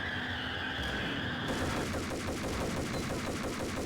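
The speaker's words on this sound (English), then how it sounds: "bring out the M4 equivalent gun" Rapid automatic carbine fire, M4-style, in the Max Payne shooter game, a dense continuous rattle of shots that grows into a steady rhythmic burst, loud and close with no talking.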